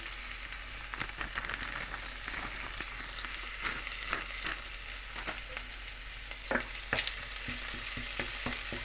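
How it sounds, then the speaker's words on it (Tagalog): Coriander frying in a pan for spinach chicken soup, a steady close sizzle with light scraping and stirring throughout and no talk. "Fried natin yung coriander."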